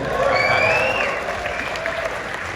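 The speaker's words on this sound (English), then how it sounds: "So give Brandon a big round of applause." Audience applause at the wrap-up of a multi-day WealthCon event in July 2023, a steady wash of clapping from a crowd that holds for the whole stretch, with a voice faintly heard through it.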